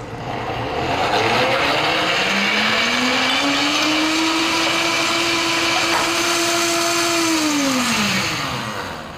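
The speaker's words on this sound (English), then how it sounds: "Now I'm gonna use the pre-programmed smoothie setting because it does all the work for me" A KitchenAid blender whirs through a green smoothie on its preset smoothie program, the motor rising in pitch, holding steady, then winding down near the end, loud and close with no talking.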